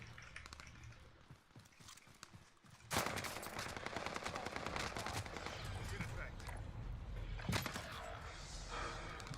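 Gunfire from a first-person shooter video game rattles in rapid automatic bursts, steady and fairly dense after a sudden start, with people talking over it.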